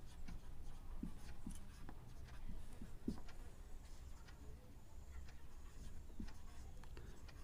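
Pen scratching out a math answer by hand on paper, faint irregular strokes and taps at close range over a low room hum.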